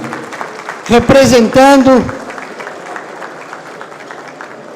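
Audience applause breaks out at a ceremony honoring a family, rising after a brief stretch of someone speaking and settling into a steady, moderately loud wash of clapping that fades slightly toward the end.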